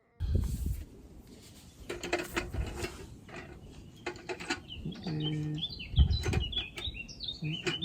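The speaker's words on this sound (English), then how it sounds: "I love hearing the birds." Birds chirp in quick, bright tweets in the background, mixed with clicks and rustling handling noises close by.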